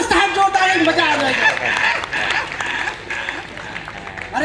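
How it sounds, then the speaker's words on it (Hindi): An audience claps loudly at a Hindi poetry recital (kavi sammelan) in Guna, the applause swelling and fading with scattered chuckles while a voice talks over it. "तालियां बजा दो साहब, जोरदार बजा रहे"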